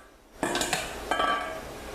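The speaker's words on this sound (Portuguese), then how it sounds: "agora eu vou misturar a carne seca que eu" Shredded dried beef stirred into pumpkin cream in a pan, making a couple of close metallic clinks and scrapes of a utensil against cookware, followed by a soft wet stirring sound.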